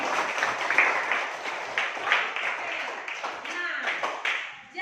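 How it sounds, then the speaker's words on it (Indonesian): Classroom clapping from a group of students, dense and continuous broadband patter lasting several seconds, fairly close, with voices mixed in and a brief dip near the end. "Coba tepuk tangan sekali lagi."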